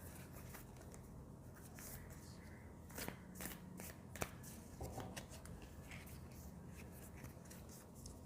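Lovers oracle cards are shuffled close by, a quiet run of soft riffling and sharp card snaps, loudest around the middle.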